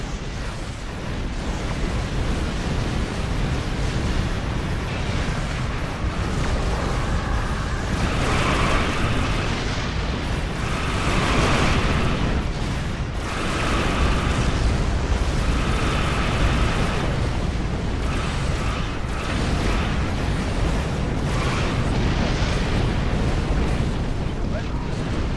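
Missile explosions in Star Trek Online, a sustained roar of repeated blasts and mechanical rattling at steady loudness, with someone talking over it.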